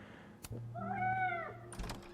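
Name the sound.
cat meowing in the video game Life is Strange Double Exposure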